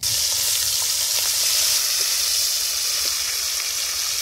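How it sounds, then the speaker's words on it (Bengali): Prawns frying in hot oil in a kadai give a loud, even, close hiss and crackle that holds steady throughout, with no voices over it. "তেল গরম হয়ে গেছে, চিংড়ি মাছ দিয়ে দিচ্ছি।"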